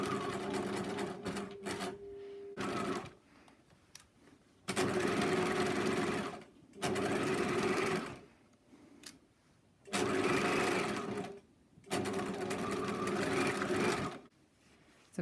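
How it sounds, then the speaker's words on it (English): Sewing machine stitching a fabric mask, including back stitches at the start: a loud, close mechanical hum in repeated bursts of a second or two, separated by short quiet pauses. "we're going to start stitching and back stitch at the beginning and then stitch away"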